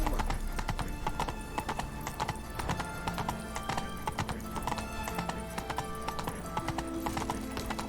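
Horse galloping in The Witcher 3, its rhythmic hoofbeats clopping steadily and close for the whole stretch, with occasional whinnies over a busy game soundscape.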